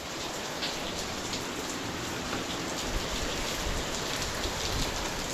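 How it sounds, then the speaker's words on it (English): Heavy rain pours down in a dense, unbroken hiss of drops striking surfaces, steady and loud from start to finish with no voices. "Looks like it's raining pretty hard now."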